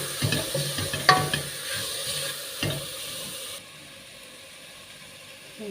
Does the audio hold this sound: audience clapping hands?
no